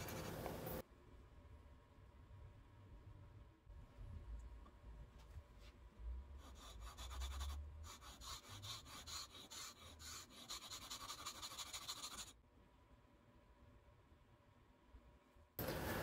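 A metal part of an ABOHR No. 3 hand plane is rubbed back and forth on a sharpening stone, producing a steady close gritty rasping that grows busier in the middle before easing off, with no talk.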